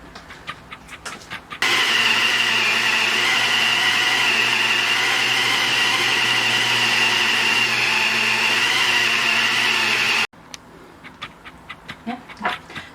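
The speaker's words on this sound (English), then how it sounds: "I'm going to put all these into my food processor and mix them all up" A food processor mixes chicken and Italian sausage, a loud steady whirring drone running about nine seconds, with quieter kitchen clatter before and after.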